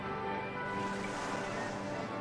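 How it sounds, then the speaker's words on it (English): Water splashes and washes steadily around a little boat on a water ride in Rollercoaster Tycoon, a loud continuous rushing surf-like sound with a faint underlying drone and no talking. "the little boat just sort of splashes around"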